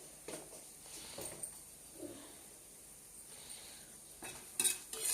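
Cumin and mustard seeds fry lightly in a pan with a faint, steady sizzle, broken by a few soft scraping or stirring clicks and a slightly louder clatter near the end.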